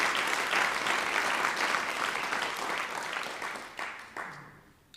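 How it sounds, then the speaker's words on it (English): Audience applause at Hayward's 150th anniversary State of the City event, a dense wash of clapping that holds steady for about four seconds, then thins out and fades toward the end. "Let's give Hayward a big round of applause."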